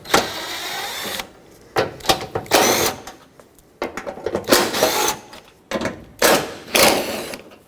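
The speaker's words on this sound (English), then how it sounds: "Now let's remove the 3 10mm headed bolts that hold the fender onto the brackets here" Power tool loosening 10mm bolts holding the fender to its brackets on a 2012-2017 Toyota Camry, heard as several loud, close whirring bursts of a second or so each, separated by brief quiet gaps.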